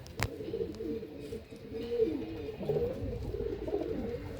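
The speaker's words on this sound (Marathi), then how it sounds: "एकदम जामुनी पंजेमध्ये कबूतर आहेत." Pigeons with purple-tinged feet coo in a breeding setup: repeated soft, rolling coos overlap at close range, with a single sharp click near the start and no talking.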